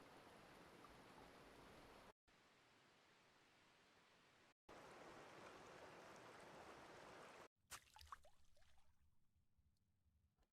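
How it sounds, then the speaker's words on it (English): Broadband rushing water like a flowing stream, heard in two separate stretches with a quiet gap between, then a few faint clicks and knocks. "And maybe I can use the stream loop."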